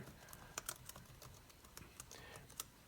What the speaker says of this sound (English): So I'm going to type in all this information here.